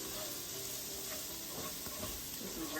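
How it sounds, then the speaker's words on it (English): Onions sautéing in a pan on the stove, a steady, close sizzle and hiss running throughout with faint scraping underneath and no talk. "We're gonna saute those until they're, you know, the onions are translucent."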